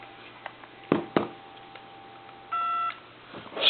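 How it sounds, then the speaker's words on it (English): A Crosley wood wall telephone dials on a repair bench, a few sharp clicks and ticks followed by a steady electronic dial tone burst, close and clear against a faint background hum. "I'm going to dial 2."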